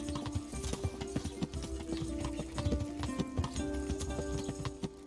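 Horse hooves clip-clopping in the medieval video game Kingdom Come, a rapid irregular run of hoof beats over a droning musical score, fairly close and continuous.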